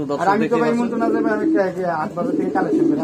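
Fancy pigeons on a farm coo close by in repeated throaty, warbling calls, a steady overlapping chorus without pause.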